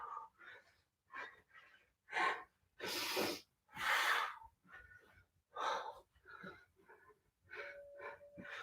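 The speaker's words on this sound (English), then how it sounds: "Deep breath." Deep, forceful breaths during an at-home workout session, about eight loud bursts of inhaling and exhaling in an uneven rhythm, close up, with a few heavy whooshing exhales in the middle.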